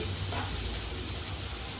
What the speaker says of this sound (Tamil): லைட்டாக தண்ணி ஊற்றி